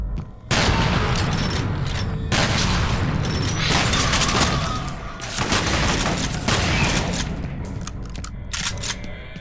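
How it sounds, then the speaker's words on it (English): Repeated shotgun blasts from the first F.E.A.R. video game, loud booming shots in quick irregular succession with dense gunfire filling the whole stretch, no talk. "The shotgun, one of the best in any game I've played."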